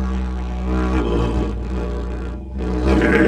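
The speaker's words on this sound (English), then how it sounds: "And then if you hum or it gets really weird like this." A PVC pipe didgeridoo is played while the player hums into it, giving a loud, thick, wavering low drone with warbling overtones.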